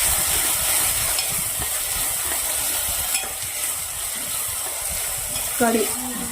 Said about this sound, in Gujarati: થોડી વાર આપણે ગવારને સાંતળી લેશું. ગવાર મિત્રો તેલના અંદર સરસ આવી રીતે સાંતળી લેવાનું છે.